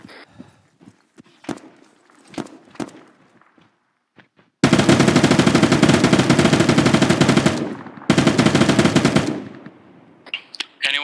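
Sustained automatic gunfire in the military shooter Arma 3: two long, loud bursts of rapid fire separated by a short gap, preceded by scattered softer clicks and thuds and followed by more scattered sounds.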